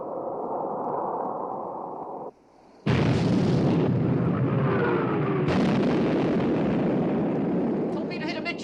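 Heavy warship main guns fire in a naval battle scene from a Bismarck war film, loud blasts and roaring rumble filling the clip after a short lull, with faint voices in the mix.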